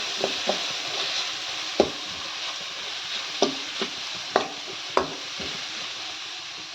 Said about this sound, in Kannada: ನೋಡಿ ಫ್ರೈ ಆಗ್ತಾ ಇದೆ ಚೆನ್ನಾಗಿ ಫ್ರೈ ಆಗಿದೆ